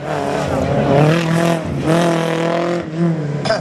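A Group A rally race car pulls away at the Saint-Lô slalom, its engine revving hard and rising in pitch in close, loud pulls, with a commentator's voice over it.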